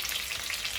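Pieces of Chicken 65 fry in hot oil, giving a steady, dense crackling sizzle that fills the whole moment at close range.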